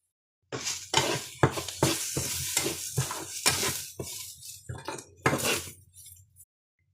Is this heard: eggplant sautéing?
yes